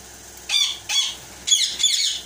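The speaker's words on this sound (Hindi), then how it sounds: "आज मैं आपको अपना एक पैर दिखाने जा रहा हूँ, येलो रिंगनेक का पैर।" A breeding pair of yellow ringneck parakeets gives four sharp, shrill squawks in close succession, loud and near over a quiet room.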